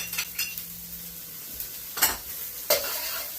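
Chopped garlic sizzles in a hot pan with asparagus for a shrimp and asparagus stir-fry, a steady close frying hiss punctuated by a few scraping stirs and light utensil clinks.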